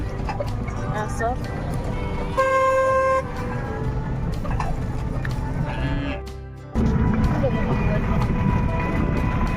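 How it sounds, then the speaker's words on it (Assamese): A tomtom battery auto-rickshaw on an open rural road gives one sustained horn toot lasting under a second, set against steady engine and road rumble, with voices talking. "এইফালে এটা টমটম আহি আছে।"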